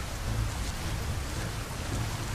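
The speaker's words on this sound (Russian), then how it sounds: "Тропический ливень, наверное" A tropical rainstorm pours down steadily in the game Tropical Escape, a dense, even wash of rain noise with a deep low-end rumble, continuous and fairly loud with no voices.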